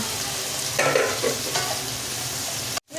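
Chopped garlic and vegetables fry in a pan for chilli chicken, a steady close sizzle with a few brief scraping stirs, ending in a sudden short silence.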